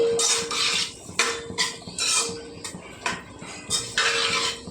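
A metal spoon scrapes and clanks against a pan as onions fry in oil, in repeated strokes roughly every second with a faint sizzle between them, close and moderately loud with no talking.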